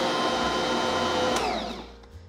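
Sliced green onions are mixed into mashed potatoes with a steady whirring motor drone that winds down and fades near the end.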